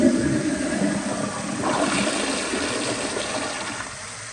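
A 1997 Kohler Highcliff toilet flushes with a steady rushing gush of water that swirls, thins and slowly tapers off as the bowl drains, heard alone and close.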